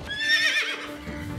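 A horse in a film excerpt gives one short, loud whinny over a steady rumbling background.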